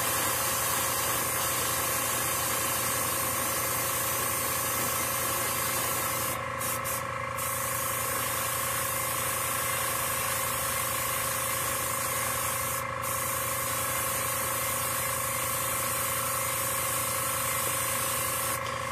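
An airbrush sprays black paint onto a scale model in a workshop, a steady, loud hiss of air holding for the whole stretch, with a few brief clicks or interruptions midway and no talking.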